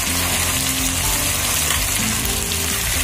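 Local chicken frying in a pan with cut potatoes and pumpkin, a loud, steady, close sizzle that runs on without a break.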